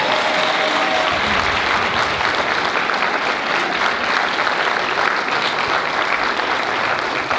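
An audience breaks into loud, sustained applause, a dense continuous wash of clapping that holds evenly for the whole stretch with no voices on top.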